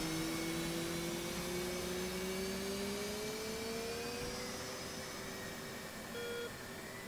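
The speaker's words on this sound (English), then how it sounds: "you can hear the engine starting to spool up" An F/A-18C Hornet jet engine spools up in the DCS World flight simulator: a steady, loud whine with slowly rising tones, continuous and alone, with a brief extra tone near the end.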